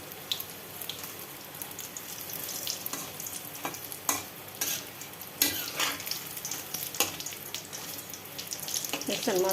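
Eggplant fritters (beguni) frying in hot oil at home after potato chops, a steady busy sizzle with bursts of crackle and some clinks, loud and close, no talking.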